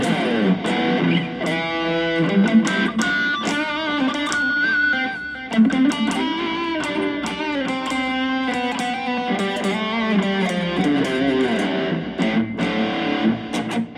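A distorted electric guitar through a Mooer GE-100 plays a sustained, bending solo line with delay repeats trailing each phrase, loud and steady throughout.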